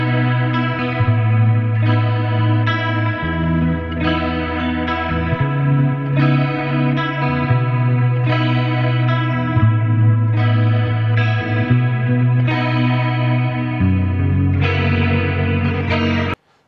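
Electric guitar plays a melodic line through delay and chorus effects with slight distortion, notes repeating and overlapping in echoes, continuous and upfront without talking.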